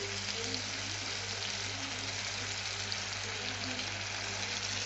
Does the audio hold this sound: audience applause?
no